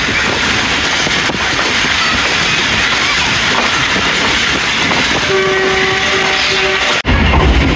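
The Rehman Baba Express passenger train passes through a station at speed, a loud continuous rumble of wheels on rails with a sustained horn tone near the end before an abrupt cut.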